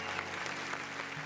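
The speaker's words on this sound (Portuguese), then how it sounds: "Aplauda ao Senhor" A church congregation clapping steadily during worship, dense continuous applause filling the room from start to finish with no pauses.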